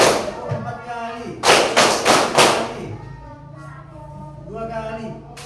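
A group claps hands together in counted bursts, a tight cluster of four quick, loud claps in the middle with lighter clapping later, while a voice speaks between the claps.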